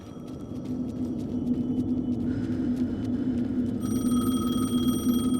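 A telephone rings steadily in Alan Wake 2, a repeating bell tone over a low, constant rumble and hum, with no voices.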